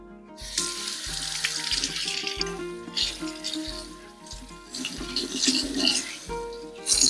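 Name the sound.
tap water washing asparagus in sink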